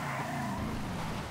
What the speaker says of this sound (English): Brush up on the drifting skills with this car.